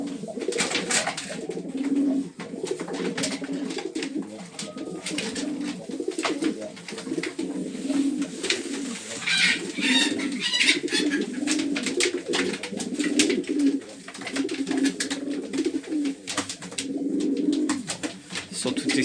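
A breeding pair of pigeons reunited in a loft coo continuously and excitedly, layered throaty calls rolling on steadily at close range.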